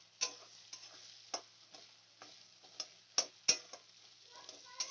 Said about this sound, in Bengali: পেঁয়াজটা খুব ভালো করে লাল করে ভেজে নিতে হবে।